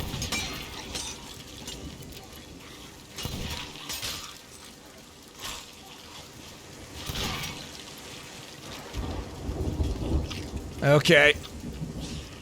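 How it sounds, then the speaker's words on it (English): A lightning storm in Sea of Thieves brings steady rain with low rolling thunder and a sharp crackling strike near the end, while a voice speaks briefly. "Struck by lightning twice."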